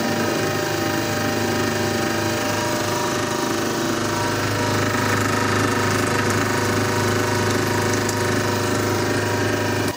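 A milling machine plunge-cutting full cutter width with through-spindle coolant at a feed of 50 gives a loud, steady mechanical roar with a harsh grinding texture and strong low hum, continuous and unbroken throughout, with no talk.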